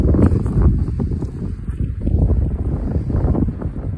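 Heavy wind buffets the microphone in loud, low rumbling gusts that roar continuously without letup.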